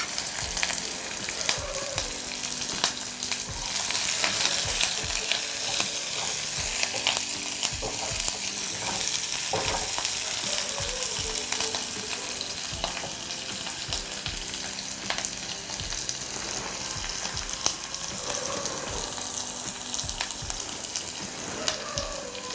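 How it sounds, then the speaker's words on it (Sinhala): Curry leaves, dried chilies and fenugreek sizzle and crackle continuously in hot oil in a pan while tempering for an ambarella curry, with the odd stirring scrape. "මේ ටික චුට්ටක් ටෙම්පරාදු වුණාම කරපිංච ටික, මිරිස් කරල, ඒ වගේම උළුහල් ටිකත් මම එකතු කරගන්නවා"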